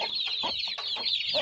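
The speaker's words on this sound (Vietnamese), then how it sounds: "gà mẹ nó cục có quần gà con" A mother hen clucks in quick, soft repeated pulses to her chicks, close and steady, with no talking.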